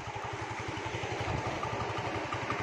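A small scooter engine runs steadily with a rapid, even putter, close and fairly loud under a wash of road and wind noise on a coastal ride.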